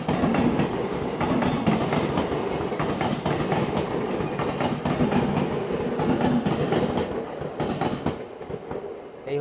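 Howrah–Dhanbad Black Diamond Express with new LHB coaches rolls along, heard from on board as a steady loud rumble with continuous rhythmic clickety-clack of wheels over rail joints throughout.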